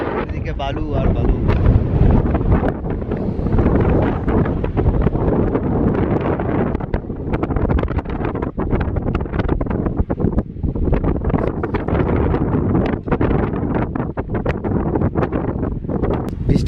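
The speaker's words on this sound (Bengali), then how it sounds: "বৃষ্টি তো না বন্ধু, বাতাসটাই তো বালু খাওয়াই দিল।" Strong gusts buffet the microphone on a sandy beach set in desert country, a continuous loud rumbling roar with sharp crackling bursts as sand is driven past, steady throughout with no speech.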